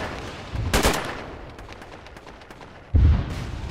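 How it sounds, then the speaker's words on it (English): Gunfire in a military video game, two loud blasts from a building fight, a sharp report early and a heavier boom near the end, with low rumble between and no talking. "You're shooting through the building?"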